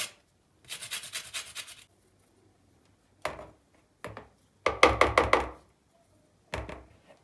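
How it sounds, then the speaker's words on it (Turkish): A lemon's peel is rasped against a grater for a lemon cream cake, producing several close, scratchy bursts of rapid strokes separated by short pauses, with no talking. "Son olarak bir limonun kabuğunu rendeliyorum."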